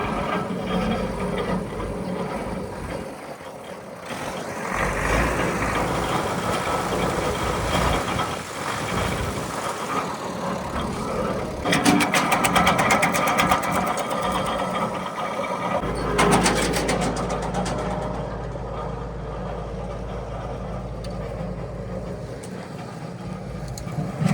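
An Arpal AM-120TR tractor engine runs loudly and surges in bursts of revving, rising and falling over a continuous rumbling drone.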